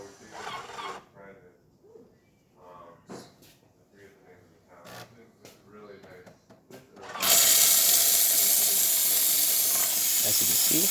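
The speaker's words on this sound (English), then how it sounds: "Then we are going to test the steam function." A Jura E8 coffee machine's steam wand bursts into a loud, steady hiss after a stretch of quiet talking, continuing close and unbroken for several seconds.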